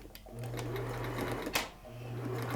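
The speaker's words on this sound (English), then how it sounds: "I'm going to do a straight stitch right along the edge, and I use my presser foot as a guide" A sewing machine runs a straight stitch along a fabric edge for a turban, with two bursts of rapid, even needle hum either side of a short pause and a single sharp click, heard close.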